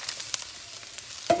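Carrots and snap peas stir-frying in a hot wok, with a steady soft sizzle and a few sharp scraping and clinking stirs, close and alone with no talking.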